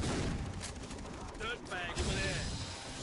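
Gunshots from a hard-to-aim gun in co-op play of the game Far Cry 3 sound over a busy, noisy battle background, with a few sharper bursts, faint bird-like chirps and some voices talking.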